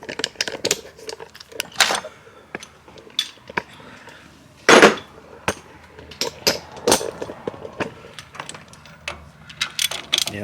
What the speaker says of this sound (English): I have to use like a reducer and use the big ratchet.